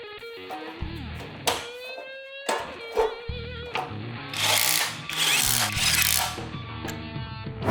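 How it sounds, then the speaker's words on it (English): Ratchet clicks and metallic tool mechanism sounds while new bolts are tightened on brake rotors of a stunt motorcycle, with bursts of louder whirring and clatter mixed with other workshop noise. "The new brake rotors are fixed with the new bolts to 30 Nm."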